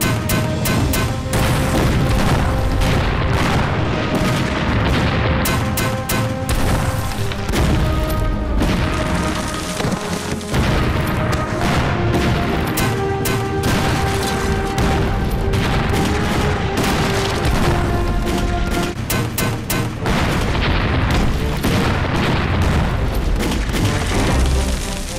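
An artillery cannon bombardment in a war drama: continuous loud booms and rapid barrages of firing roll on without pause, dense and overlapping throughout, with no clear speech.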